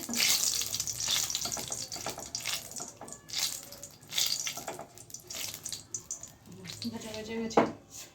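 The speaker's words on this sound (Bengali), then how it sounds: "এখন আমি তিন চারটা শুকনো লঙ্কা দিয়ে দিলাম দিয়ে দিলাম তেজপাতা এটাকে একটু শুকনো লঙ্কাটাকে একটু ভেজে নিতে হবে" Dried red chillies and bay leaf frying in hot oil in a Bengali home kitchen, a steady crackling sizzle with bursts of spluttering and faint clatter throughout.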